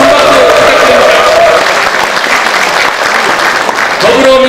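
Loud, sustained applause from a crowd at a rally of provincial and metropolitan council members calling for decentralization as a party leader is introduced, thick clapping filling the whole few seconds with faint voices underneath.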